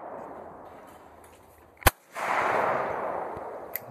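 A single sharp shotgun blast cracks out at a sporting clays range, near and loud, followed by a broad rushing outdoor noise and a fainter pop near the end.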